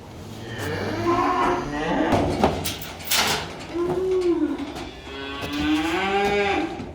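Several Korean Hanwoo calves moo loudly and repeatedly near at hand, long drawn-out calls for their mother, with some clattering of metal gates or a sliding door on a farm as the calves are loaded for sale.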